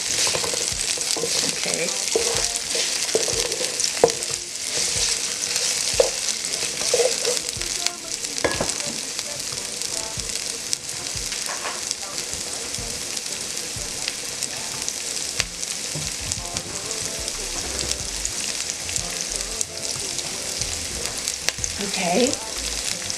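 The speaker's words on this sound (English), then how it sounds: "now we're going to stir." Meat pie filling frying in a pan sizzles loudly and steadily throughout, with irregular scraping and knocking as it is stirred, and a voice speaks briefly over it.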